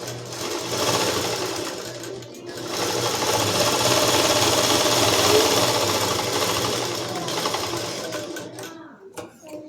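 A sewing machine stitching a school dress, running in loud, fast continuous bursts with a brief pause early on and a stop near the end.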